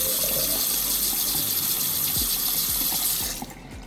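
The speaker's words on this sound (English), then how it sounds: "you see it's going down very smooth. It's not holding water at all. Immediately draining" Water rushing freely down a freshly unclogged kitchen sink drain: a loud, steady gushing flow with gurgling, close up, fading away in the last half second.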